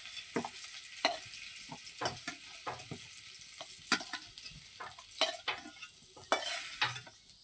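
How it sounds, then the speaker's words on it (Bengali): Potatoes fry in oil with salt and turmeric, a close, even sizzle broken by repeated short scrapes and taps of a spatula stirring the pan, with no voices. "কিছুটা পরিমাণ নুন কিছুটা পরিমাণ হলুদ দিয়ে ভালো করে ভেজে নেবো"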